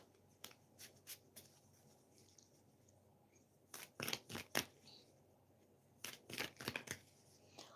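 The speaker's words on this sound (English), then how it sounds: "I'm just shuffling the cards here." Quiet, close riffles of tarot cards being shuffled, in short bursts with pauses between, growing busier toward the end; no talking.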